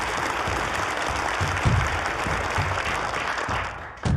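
An audience claps for the student technical judges at a university debate competition. The applause is a dense, steady patter that fills the room for several seconds, then fades briefly before a fresh burst at the end.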